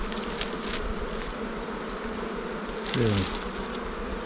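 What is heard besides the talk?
honey bees buzzing around the hive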